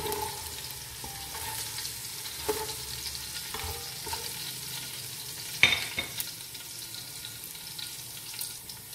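Chopped green chilli and long red chillies frying in hot oil, giving a steady, even sizzle with light stirring and a few soft clicks of a utensil against the pan; no voices.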